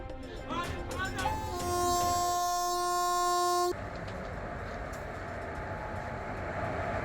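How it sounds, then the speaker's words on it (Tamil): Passenger train departing on the newly launched Mettupalayam–Thoothukudi service, its horn sounding a loud sustained blast for about two seconds amid rumbling rail and crowd noise. "மேட்டுப்பாளையத்திலிருந்து தூத்துக்குடி வரை புதிய ரயில் சேவை தொடக்கம்."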